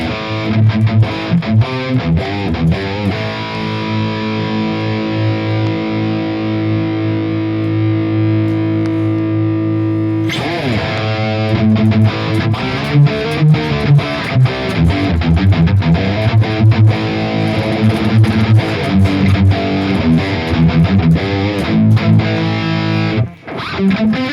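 Heavily distorted high-gain electric guitar through a Valeton GP200 plays sustained chords and riffs with a constant hiss of noise beneath, no noise gate, loud and close.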